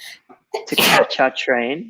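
A person sneezes loudly and close by, a sharp burst set among a few spoken words.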